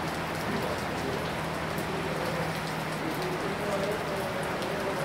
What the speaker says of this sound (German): Wir sitzen da im Regen.